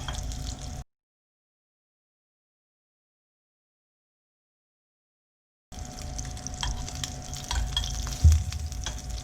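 Foie gras sears in a hot pan with a bright, crackling sizzle, cut off by a few seconds of total silence before the steady frying resumes, with a low thump near the end.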